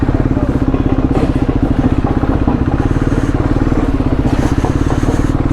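A KTM Duke 390 motorcycle fitted with an SC Project CR-T exhaust runs close by with a loud, rapid, rhythmic single-cylinder thump and crackle that stays steady throughout.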